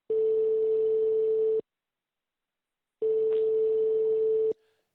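Telephone busy signal: two long steady tones about a second and a half each, separated by a silent gap, loud and close with nothing else over them.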